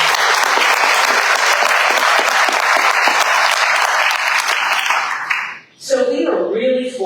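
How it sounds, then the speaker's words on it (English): Audience at a Silicon Valley health care forum breaks into a sustained, dense round of applause lasting several seconds, fading out before a speaker resumes talking near the end. "Round of applause"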